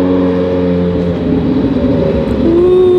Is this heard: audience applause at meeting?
no